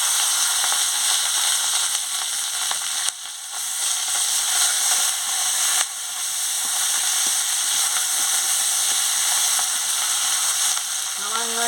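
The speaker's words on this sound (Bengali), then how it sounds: "আদা বাটাটা দিয়ে দিচ্ছি, দিয়ে ভালো করে ভেজে নিচ্ছি" Ginger paste, chopped tomato, coriander leaves and green chilies fry in a pan, a loud bright hiss of sizzling that runs continuously, broken by a few brief stirring pauses, with a short tone near the end.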